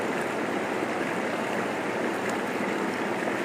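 A river on Dartmoor, once heavily mined for tin, rushes past in a steady, close, continuous wash of flowing water, with no voices.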